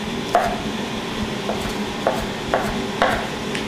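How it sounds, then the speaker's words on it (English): A knife cuts warm grilled peaches into big chunks on a board, five sharp, close taps spaced unevenly over a soft steady background hiss. "Now, start by slicing these into big chunks."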